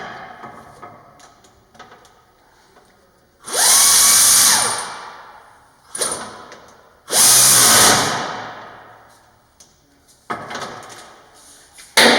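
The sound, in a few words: power tool tightening steering pinch bolt on Toyota Sienna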